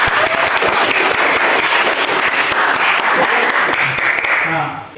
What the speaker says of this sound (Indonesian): Ayo kita bersama-sama memberi tepuk tangan untuk kita seluruh.